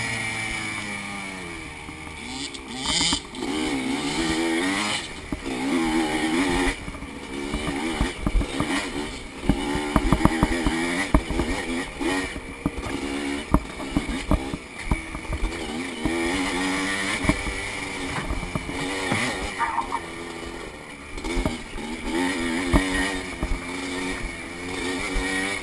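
A scrambler motorcycle in a 55+ class race rides a lap at Kingston, its engine buzzing and revving continuously close by, rising and falling with gear changes and throttle over the whole stretch.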